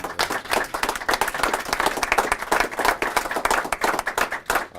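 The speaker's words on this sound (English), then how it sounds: "just a huge round of applause for everything that" A crowd at a city news conference gives a dense, steady round of applause, loud and continuous throughout with no pause.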